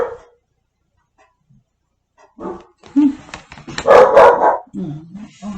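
A dog gives a few barks and yips nearby after a quiet stretch, with some brief whimpering sounds between them.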